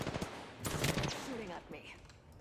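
Gunfire in the Apex Legends battle royale, Season 10: a few sharp bursts of shots ring out in a cluttered mix, with a louder hit near the end, heard over game noise.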